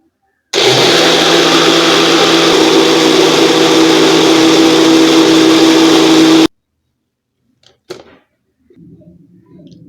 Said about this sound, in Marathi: फिरवून घ्यायचं आहे मिक्सरला